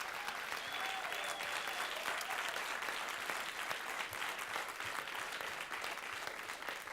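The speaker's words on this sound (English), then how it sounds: "Can we give a round of applause to our economy panel?" Audience applause for an economy panel at a conference: a sustained, even roar of many hands clapping, heard from within the room.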